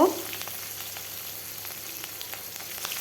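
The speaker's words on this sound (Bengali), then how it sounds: "পেঁয়াজটা লাল লাল করে ভেজে নিতে হবে" Onions frying with green chillies in the oil left from frying fish, a steady close sizzle holding at an even level throughout, with faint crackles and no voices.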